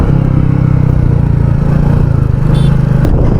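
A 2021 Royal Enfield Meteor 350 motorcycle engine revs loudly and steadily up close, with a rough throbbing drone and a faint whine near the end.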